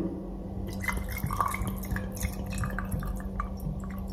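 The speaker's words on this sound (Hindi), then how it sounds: "अब थोड़ा सा पानी डालेंगे इसमें" Water poured into a glass of grain whiskey, heard as a light trickle with dripping splashes and faint glass clinks over a low steady hum.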